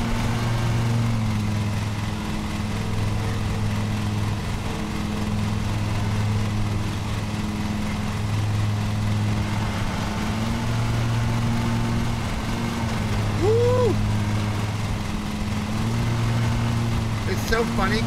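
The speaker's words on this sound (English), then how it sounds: "I'm like driving this thing like it's a real lawnmower when I should drive it like it's a game lawnmower" Riding lawn mower engine in the video game Lawn Mowing Simulator, a steady low droning hum that holds for the whole stretch with small shifts in pitch, loud and continuous.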